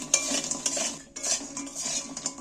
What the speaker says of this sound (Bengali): এইবার আমি ভাজা পকোড়াগুলো এর মধ্যে ঢেলে দিচ্ছি দিয়ে একটু নাড়াচাড়া করে নিচ্ছি